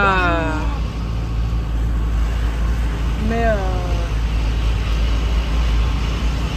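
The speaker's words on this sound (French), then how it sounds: "le camion fait quand même énormément de bruit" Steady, loud low engine rumble of a camper van-conversion truck on the move with windows open, droning continuously, with brief voices speaking over it at the start and middle.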